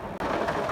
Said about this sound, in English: Oh, raining hard now.